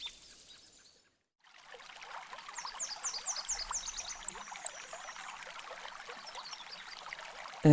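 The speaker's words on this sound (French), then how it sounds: "Un joli petit ruisseau cascade près de la baie des Rondouillets" A small stream cascades near a bay in a clearing, giving a steady close rush and trickle of water that starts after a brief quiet gap. Faint bird chirps can be heard above it.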